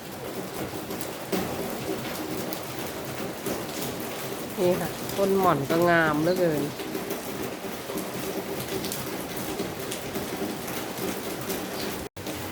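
Steady heavy rain hisses throughout, while someone speaks briefly partway through and a bird coos faintly.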